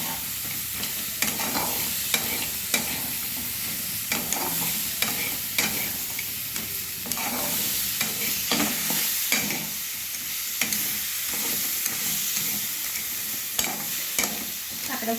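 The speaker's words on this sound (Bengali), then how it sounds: "কাঁকড়াটা কষে নেব।" Crab pieces fry hard on a high flame, a loud continuous sizzle broken by regular stirring clatters and scrapes in the pan, close and without talk.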